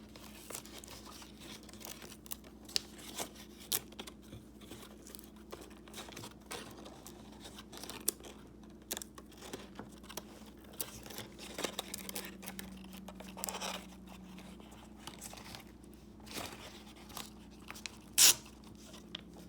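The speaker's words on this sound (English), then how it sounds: "Once you've taped it like that, you can cut the excess tape off." Tape being pulled and pressed around a paper origami ball, then scissors trimming the excess, scattered crinkles, small snips and short tearing sounds, quiet and close.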